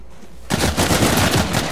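Bursts of gunfire in the Uncharted 4 multiplayer shooter erupt suddenly after a quiet moment, a loud, close rapid volley of shots continuing densely.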